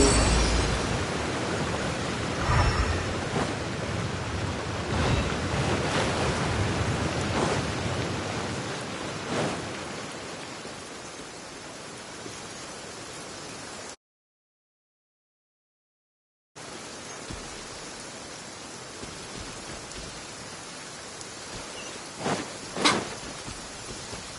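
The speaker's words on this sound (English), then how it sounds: "If this rain keeps up, my fur will be dripping wet." Steady dense rain hiss in the video game Genshin Impact with occasional sharp taps and low rumbles, interrupted by a few seconds of total silence before the downpour resumes.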